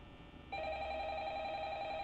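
A telephone rings in the horror video game Five Nights at Freddy's, cutting in abruptly after near-silence as a steady, sustained electronic ring tone that holds at a constant level.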